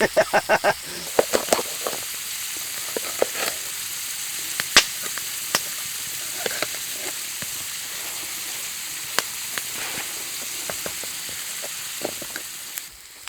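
Chanterelle mushrooms frying in a pan on a firebox give off a steady low sizzle and hiss, broken by sharp clicks and pops from the pan, with no talking over it.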